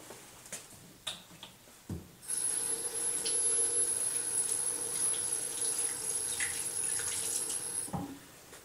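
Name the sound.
water running from a tap while washing hands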